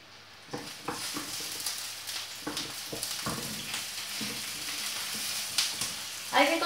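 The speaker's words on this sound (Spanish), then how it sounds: "Y ahora ya ponemos lo que es el espárrago." Asparagus sizzles in a griddle pan with oil and salt: a continuous crackling fry with scattered pops and taps of the spears being laid in, close by, and a brief clatter at the end.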